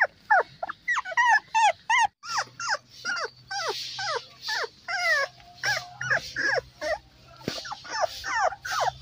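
Beagle puppies whimper, yip and growl in quick, overlapping bursts, close and fairly loud, with a steady low hum underneath and no talking.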